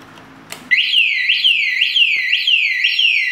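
A Yamaha R15 motorcycle anti-theft alarm blares suddenly after a key is inserted, a loud electronic siren cycling in rapid repeating rising-falling sweeps, close and continuous.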